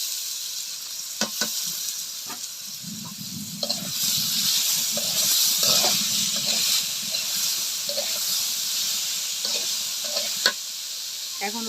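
Vegetable stalks hit hot oil with fried onion, green chili and garlic in a Bangladeshi stir-fry, giving a continuous sizzle and hiss with clattering stirring strokes from a utensil throughout.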